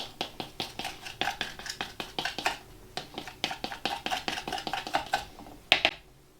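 A utensil scrapes and taps repeatedly against a container while honey is pushed down into a mead vessel for an apple and cinnamon cyser, a close, quick run of clicks and knocks with no talk.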